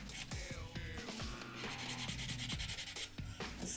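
An acrylic nail surface being buffed by hand, giving a close, quiet rhythmic rubbing and scratching with short repeated strokes and no talking.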